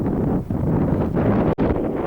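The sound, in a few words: wind blowing into the microphone outdoors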